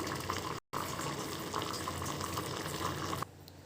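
Telugu-style dal with leafy greens bubbling steadily in a pot on the stove, a close, continuous simmering hiss with a brief dropout, then quieter at the end.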